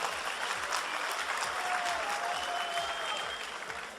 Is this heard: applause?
yes